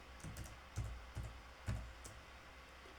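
Soft, close keystrokes tap out a few irregular clicks on a computer keyboard, quiet between presses, with no voices.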